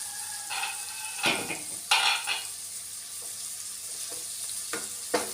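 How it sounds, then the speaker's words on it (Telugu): Chopped ivy gourd (dondakaya) with turmeric fries in oil, a soft sizzle under several sharp clinks and scrapes of a spoon stirring against the pan, close and irregular. "కలుపుకొని మంచిగా ఫ్రై చేసుకోవాలండి వీటిని."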